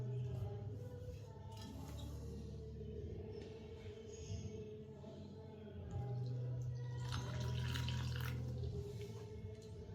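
Water poured into a maida and cornflour batter for restaurant-style gobi manchurian and stirred in, a faint, steady trickle and wet mixing under a low background hum.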